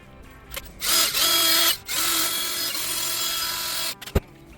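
A power tool scours the engine surface around the bolt holes of a Briggs & Stratton Intek small engine in a few loud, close bursts separated by brief pauses, ending with a couple of sharp knocks.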